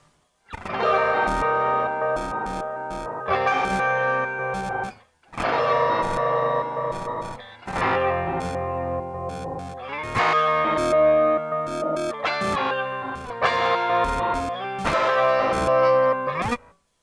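Heavily processed guitar phrases through a Roland MX-1 with flanger, bitcrush and delay, swirling sweeping modulation, crunchy gritty tone and echoing repeats, played in several bursts with brief gaps between them.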